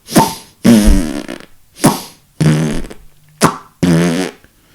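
Didgeridoo played with the kiss technique, six separate buzzing, blown bursts of roughly half a second each with short gaps between, loud and close, no talking.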